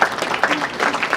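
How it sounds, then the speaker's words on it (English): Partial applause from an audience at a political speech, a short patch of scattered clapping from a modest number of hands. "Partial applause, yeah, partial applause, because here comes the but."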